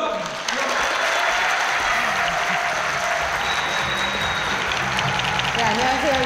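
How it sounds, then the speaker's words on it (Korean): A studio audience on a Korean television special breaks into steady, loud applause as a guest is invited to the stage, the clapping continuing throughout with a faint hum underneath and brief voices toward the end. "큰 박수"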